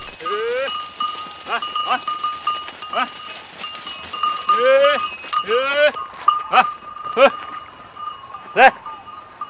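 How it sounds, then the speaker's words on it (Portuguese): Goats being driven along a road by a man in a leather hat bleat repeatedly in wavering cries, several overlapping at times, while a steady metallic bell tone rings throughout and a few sharp knocks punctuate the scene. "Ao fundo, na estrada, um homem de chapéu de couro tange bodes."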